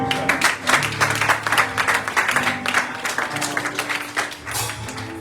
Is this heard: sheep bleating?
no